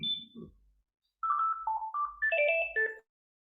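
A mobile phone ringtone plays a short melodic phrase of clear stepped electronic notes, loud and close in a classroom, after a brief voice at the start.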